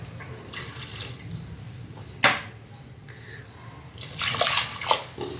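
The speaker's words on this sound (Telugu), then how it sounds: "1 గ్లాస్ ఆఫ్ వాటర్ అండి వేసాను" A glass of water is poured into a cooker pot over kohlrabi pieces coated in coriander powder, salt and chili, making a splashing rush in bursts with a sharp clatter partway through.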